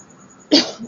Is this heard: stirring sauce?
no